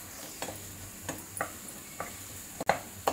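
Ginger garlic paste frying in a pan with asafoetida for a green moong and spinach curry, a soft sizzle broken by scattered stirring clicks and taps.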